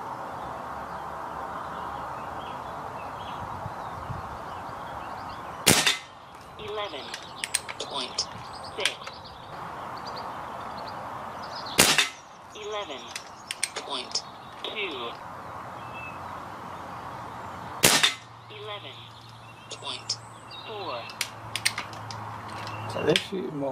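A Kral Puncher Jumbo air rifle fires three sharp, loud shots a few seconds apart, each followed by mechanical clicks of cocking and loading, with soft ambient noise between them.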